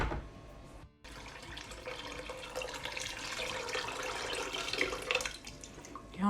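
Water pours steadily from a tap into a pot of black-eyed beans with salt, making a continuous close splashing rush that rises in pitch as the pot fills, after a short pause near the start.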